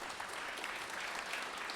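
Audience at a Tri Cities Chamber of Commerce all-candidates debate claps in a dense, even wash of applause, moderately distant and steady for the whole short stretch, with no voices over it.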